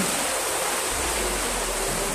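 Mountain stream water rushes downhill in a loud, continuous, broadband roar with a deeper surge joining partway through and no voices.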